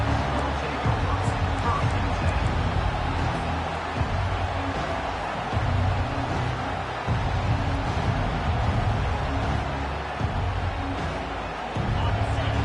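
Loud, steady crowd roar fills the whole stretch, a dense wash of cheering and babble with no pauses, from a packed stadium during an American football game.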